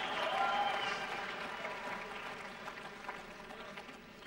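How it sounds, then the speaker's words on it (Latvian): Spectators at a fight between a Dutch and a Belarusian competitor applaud in a moderate, sustained patter that slowly fades, with indistinct crowd noise beneath. "Skatītājs sāk aplaudēt."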